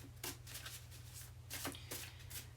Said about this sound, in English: All right, 6 cards, Donna's Destiny.